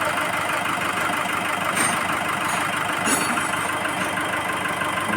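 A Nissan Navara engine idles steadily after a tappet repair, a continuous even mechanical hum and whir heard close up with no one speaking.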